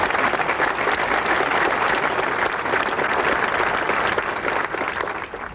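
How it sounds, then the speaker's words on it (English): An audience applauds during a presidential speech by George H. W. Bush, with a full, continuous wash of clapping that stays loud and even from start to finish. "We applaud you and your shining example"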